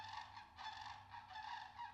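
Geese honk repeatedly near a fishing kayak in a run of nasal, overlapping calls that come in uneven bursts, close by and fairly quiet, with no talking.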